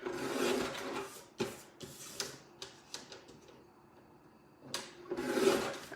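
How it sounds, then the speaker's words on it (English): Paper pieces from a Stampin' Up! Paper Pumpkin card kit are trimmed with a paper trimmer, giving raspy sliding cuts at the start and end and several short scraping strokes in between, close and fairly quiet. "we're gonna trim all these off, and we're gonna trim those off too"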